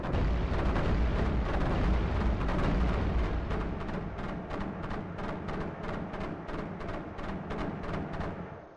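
Rapid machine gun bursts in the iBomber Defense strategy game, set in Germany, rattling steadily against a dense backdrop of continuous explosions and booms, loud throughout with rhythmic repeated shots standing out in the latter half.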